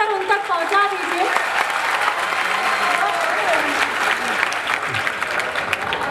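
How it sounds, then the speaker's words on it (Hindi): A crowd gives sustained, dense applause to welcome a guest, steady and loud throughout with voices mixed into the clapping. "एक बार उनके स्वागत की जो तालियां कम रह गई थी वो आप बजाकर उन तक पहुंचा दीजिए।"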